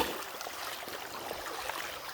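Creek water rushes and gurgles around someone wading through it, a steady close hiss of flowing water with faint splashes, no talking.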